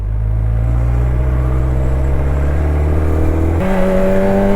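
A hypersport motorcycle without a quickshifter or supercharger runs hard under acceleration, its loud, steady engine drone holding pitch before jumping to a higher tone near the end.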